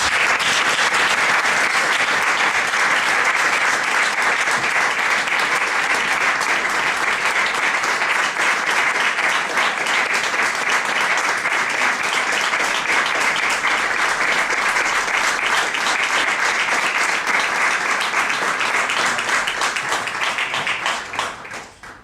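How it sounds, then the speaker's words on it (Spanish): Audience at a short-story prize ceremony in Grado applauds steadily for about twenty seconds as an award is presented, a dense, even wash of many hands clapping that tapers off at the very end. "Un aplauso, por favor."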